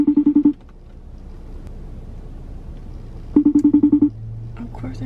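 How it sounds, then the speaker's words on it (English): A phone call rings out unanswered, with two bursts of repeated ringback pulses at the start and again a few seconds later, separated by a stretch of quiet background hum. "Of course they're not answering the phone."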